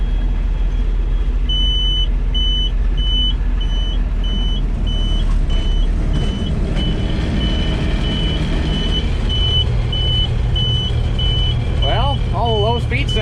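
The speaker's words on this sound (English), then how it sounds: "What are you beeping at?" Repeated high electronic beeps from a reversing truck, steady and evenly spaced, over engine rumble and some background voices.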